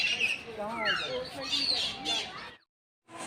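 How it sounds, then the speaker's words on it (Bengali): Parrots and other birds at Kolkata's Alipur zoo in winter call in a busy, overlapping chorus of squawks and chirps, fairly close and loud, before a brief cut to silence. "কত পাখি ডাকছে"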